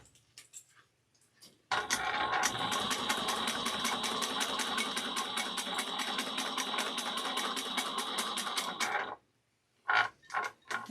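A sewing machine back stitches fabric for a small bowler bag, one long even burst of rapid needle strokes with a steady motor whir, close up, bracketed by brief clicks and a few short stitch bursts at the end.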